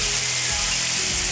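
Rabbit pieces frying in a pan give a loud, steady, close sizzle with a continuous hiss and faint pops throughout.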